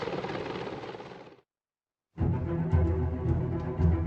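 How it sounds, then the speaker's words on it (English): A Mil helicopter thunders close by with a dense rotor roar that cuts to silence for a moment, then returns loud and steady. "a similar helicopter designed by Mikhail Mil was already in production"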